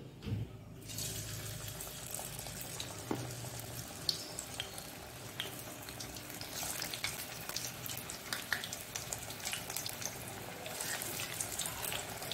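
Battered tender jackfruit kebabs fry in hot oil in a kadai with a continuous bubbling sizzle, heard up close and steady with occasional small clicks and no talking.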